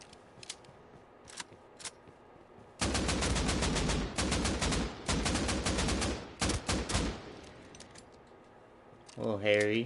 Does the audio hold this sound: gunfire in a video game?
yes